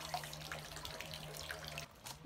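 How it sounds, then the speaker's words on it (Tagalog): Water flows down steadily into a stone hand-washing basin at a Japanese temple, a soft continuous splashing trickle heard from a short distance, fairly faint, with no talking. "Yung tubig na gagaling dito sa taas."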